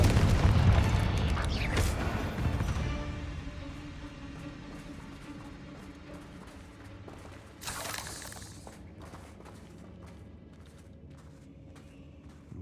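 A Confringo fire spell goes off in Hogwarts Legacy: a heavy blast opens, then a long rumbling decay, a second sharp shattering burst near the end, and fading debris and clatter.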